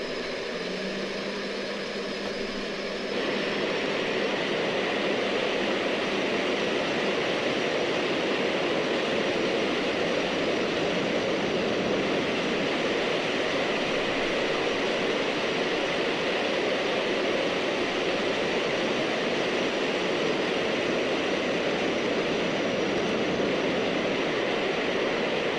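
An F/A-18F jet in the X-Plane 11 flight simulator spooling up for takeoff, a steady loud roar and whine of engines that swells after a few seconds and holds constant throughout.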